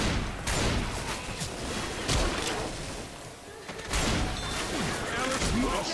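Dense rapid gunfire from the zombie shooter Left 4 Dead 2, with bursts of shots and booming blasts layered over constant chaotic game noise, loud and nearly unbroken, with a player's voice heard in the mix.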